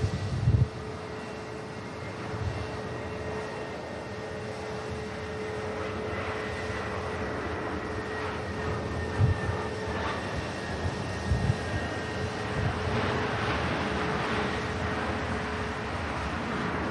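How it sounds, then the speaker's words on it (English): An airliner bound for Amsterdam taxis past at Manchester Airport with a steady low engine drone and a thin tonal whine, swelling slightly as it nears, with occasional wind bumps on the microphone. "And just about to taxi past us is the second aircraft for Amsterdam."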